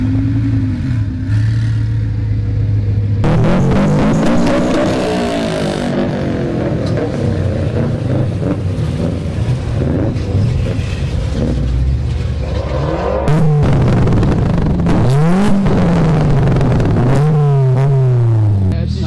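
Show cars leave for a parade, revving their engines hard with antilag pops and crackles. Loud, close engines rise and fall in pitch as they pass, with clattering bursts throughout and some voices underneath.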